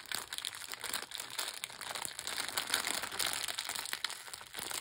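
Plastic bag holding diamond painting drills crinkling steadily as it is opened, a dense, close rustle with crisp crackles that continues throughout at moderate volume.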